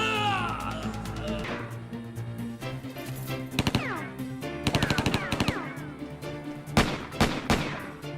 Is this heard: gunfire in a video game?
yes